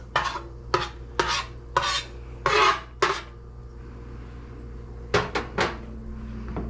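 Chilies and scallions pushed around a hot pan for three cups chicken, giving a run of short scraping, stirring strokes over a steady low hum, then a pause and a few quicker scrapes near the end.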